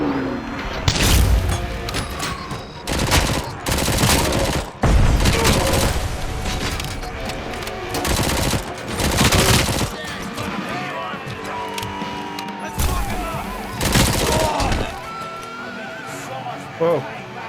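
Repeated bursts of submachine-gun fire in the first-person shooter RoboCop: Rogue City, loud sustained volleys broken by short pauses, over game music and a talking voice.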